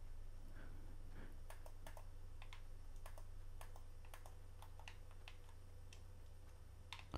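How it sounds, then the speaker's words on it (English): Quiet mouse clicks tap out an irregular rhythm during Fortnite gameplay, sharp close ticks over a steady low hum. "I don't know if you guys can hear me clicking"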